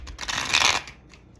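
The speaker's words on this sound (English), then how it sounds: "That shuffle was ass." A deck of playing cards is riffle-shuffled once, a close, rapid burst of fluttering card slaps lasting under a second before fading to quiet.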